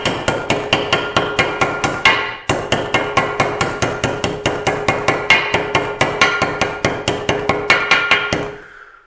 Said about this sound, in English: I'm using a ball peen hammer too.